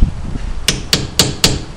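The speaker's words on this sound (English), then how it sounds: "You need to hammer it to take it off of that nut." Four evenly spaced, sharp metallic hammer blows strike a socket on the front spindle nut of a 1993–1997 Ford Ranger, close and loud with nobody talking.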